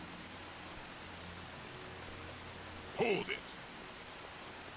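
Rain in the video game Vampire Rain hisses as a steady, even wash throughout, briefly interrupted by a short shouted line of speech.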